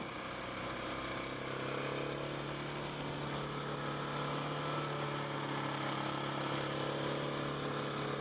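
KTM 690 Enduro single-cylinder motorcycle engine running steadily under way, a constant low hum with a smooth, even tone, fairly quiet and with no talk over it.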